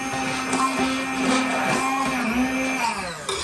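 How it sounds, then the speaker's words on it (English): An immersion blender whirs steadily as it purées a creamy tofu basil soup, giving a continuous motor hum with a slight pitch drift as it churns, close and loud, with no talk over it. "Now you're going to take your immersion blender and you're just going to blend this up."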